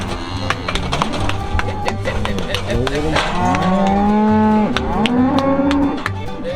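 Free-ranging cattle moo loudly and close by, several long drawn-out calls in a row, with a voice calling to them now and then.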